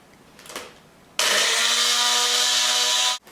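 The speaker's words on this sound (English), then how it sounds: "give the other 3/4 cup a quick whir in the blender to make them a little more fine" A kitchen blender whirs 3/4 cup of oats into a finer flour for vegan cranberry oat bars, a loud steady motor roar starting abruptly and running for about two seconds before cutting off, with a softer clatter beforehand.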